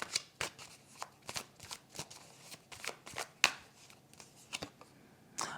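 Tarot cards shuffled, flicked and laid out for a horoscope reading, a steady run of crisp riffles, snaps and slaps on a surface, close up, with no talking.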